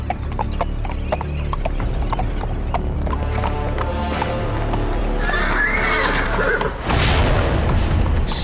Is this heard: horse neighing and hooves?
yes